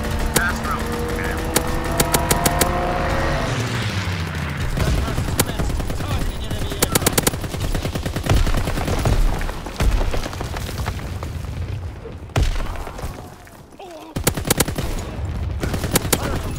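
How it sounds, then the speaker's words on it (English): A fighter aircraft strafing run in Call of Duty WWII rattles out repeated bursts of machine gun fire and booming impacts, loud and dense throughout, mixed with game voices. "Fighter aircraft ready for strafing run."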